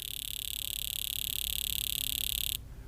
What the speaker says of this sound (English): I'll take an injector and I'll do the same thing, and you can actually hear how fast it's pulsing